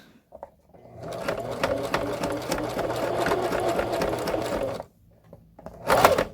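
Sewing machine stitching a rolled-over pocket on a skirt, one sustained close run of rapid needle chatter lasting about four seconds, then a pause and a short final burst.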